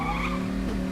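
Car driving and skidding in the heist video game Payday, a short steady engine drone with tire squeal over it, alone and fairly quiet.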